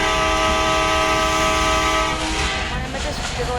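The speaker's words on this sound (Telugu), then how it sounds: "సో చూడండి గైస్, ఇదే అనమాట మన ట్రైన్." A passenger train runs past close by, a loud steady rumble with a sustained tonal horn-like drone that fades as the train moves on.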